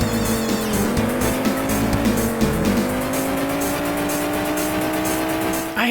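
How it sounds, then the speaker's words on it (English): Engines whine steadily with rising and falling pitch as cars drift around corners and slam into rivals in the Amiga racing game ATR, with loud, continuous tire squeals and collisions and no talk. "in this game we're invited to drift around corners and slam"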